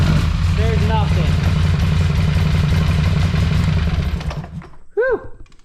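A Polaris Sportsman 850 XP ATV, smoking and lacking throttle response, runs rough with a loud, uneven, rattling idle up close before the engine cuts out, followed by a brief voice.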